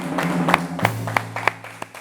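Hand clapping from a small group or single person, sharp separate claps at irregular intervals, moderately near, over a steady low hum and faint background murmur.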